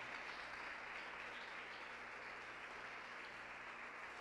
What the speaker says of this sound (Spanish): Dele ese fuerte aplauso al Espíritu Santo de Dios que se hizo presente en este lugar.